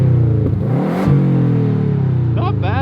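A car engine with an exhaust leak revs hard and holds a loud, rising drone close by, with a voice talking over the rumble near the end.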